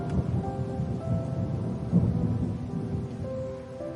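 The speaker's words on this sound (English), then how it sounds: "Seems a storm's beginning to whisper again." Steady rain from a thunderstorm with a low, rolling thunder rumble underneath, continuous and even, with no voices.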